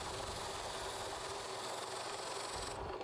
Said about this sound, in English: I'll take a buffing rake and rake out any clumps of finish left over from the last time I used the buffing wheel.